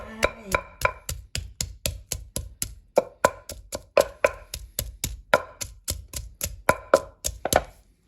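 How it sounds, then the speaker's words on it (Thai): Garlic being pounded in a mortar for a Thai pounded cucumber salad: steady, even pestle thuds, roughly three per second, close and crisp throughout. "ใส่กระเทียมลงไป"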